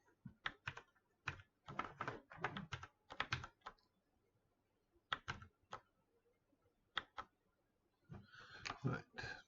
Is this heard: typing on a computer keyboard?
yes